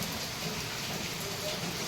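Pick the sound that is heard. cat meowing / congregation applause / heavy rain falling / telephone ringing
heavy rain falling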